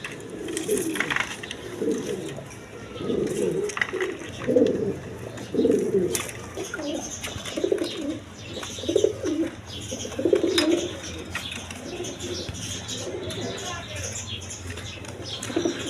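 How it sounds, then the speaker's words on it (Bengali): Pigeons coo repeatedly at a bird market where breeding pairs are kept, soft low rhythmic calls recurring every second or two, with occasional wing flaps and faint background voices. "এক পেয়ার গররা কবুতর আছে"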